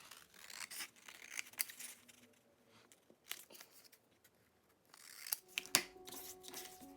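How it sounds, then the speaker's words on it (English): Scissors snip and slice through paper for a junk journal craft, a series of quiet crisp cuts with rustling between them, close and soft, with a louder cluster of snips near the end. "Let's cut this out."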